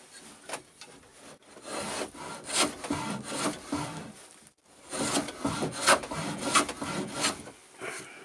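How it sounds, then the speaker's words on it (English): A hand plane blade shaves a wooden board in repeated rasping strokes, two bursts of steady scraping separated by a short pause, close and clear with no talking. "And just let the blade take a little shaving off right here."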